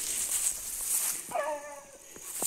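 Dogs on a hunt bay at a paca in its burrow, a short whining yelp with harmonics rising mid-clip over steady insect hiss, moderately near and brief.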